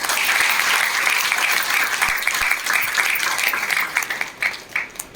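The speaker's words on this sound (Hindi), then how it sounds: "एक बार जोरदार ताली" Loud, sustained applause from a crowd at a welcome-and-speech gathering in Nallasopara, honoring the event organizer; dense clapping holds steady throughout before easing slightly near the end.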